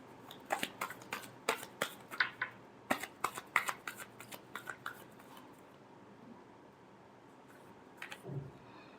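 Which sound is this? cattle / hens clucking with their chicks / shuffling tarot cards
shuffling tarot cards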